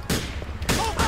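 Police gunfire in Grand Theft Auto 4, loud close bursts of several rapid shots with short echoing tails, in two clusters separated by a brief lull.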